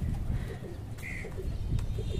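Pigeons coo softly in a loft, with a few low, rounded calls and light rustling against a steady background hum and no clear speech.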